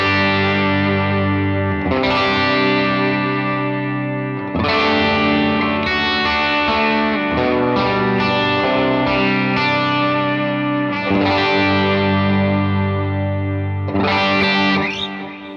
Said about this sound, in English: here's what it sounds like just out of the box. This is sort of our bass sound.